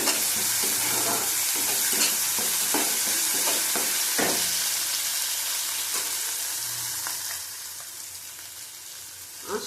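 Rohu fish fried with panch phoron sizzles loudly and steadily while being stirred with salt in a pan, with rhythmic scraping strokes over the constant hiss, close up and without speech.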